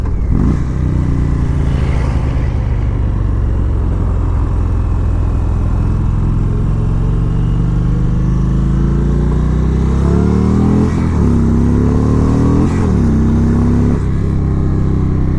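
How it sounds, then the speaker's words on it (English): A 2017 Indian Springfield bagger motorcycle's engine drones loud and steady while riding, with rising and falling pitch sweeps near the end as the rider rev-matches through gear changes. "Rev matching feels really good on this bike, I love it."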